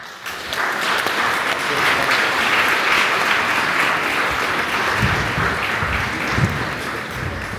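An audience at a student eco-project conference claps steadily, a dense and fairly loud sustained round of applause that fades slightly toward the end.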